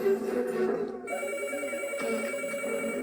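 A telephone rings indoors with a steady electronic tone that keeps going for a few seconds, heard close and moderately loud.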